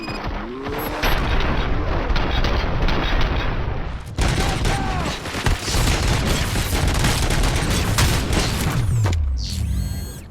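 Heavy gunfire and booms in the Robocop video game, dense and continuous, with mechanical clatter and game effects mixed in and a voice faintly underneath.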